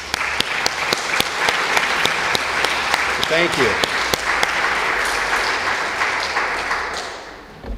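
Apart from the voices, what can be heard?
audience applause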